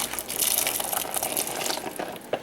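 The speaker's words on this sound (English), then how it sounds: "And when we bring that back up to a boil, we will add our beans." Beans tipped into a pot of vegan pantry soup brought back to a boil, giving a steady wet rushing, splashing wash of liquid over about two seconds, with a small splash near the end.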